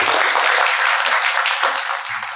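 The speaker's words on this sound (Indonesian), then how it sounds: "kita berikan tepuk tangan yang meriah untuk beliau" Audience applause at a Ramadan charity gathering streamed on Zoom, a dense continuous wash of many hands clapping that stays loud throughout before tapering slightly at the end.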